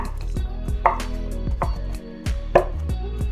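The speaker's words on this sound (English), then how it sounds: "I put my hand on the top and just cut it into, you know, bite-sized pieces" A knife cuts a chocolate bar into bite-sized pieces on a board for no-bake cookie dough bites, making close, steady thuds and cracks about every half second, with no voices.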